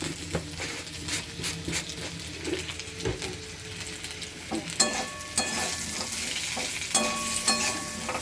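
Jujube pickle is stirred in a pan, with a steady close sizzle under repeated scraping and clinking strokes of a spoon against the pan, and occasional sharper taps, no voices present.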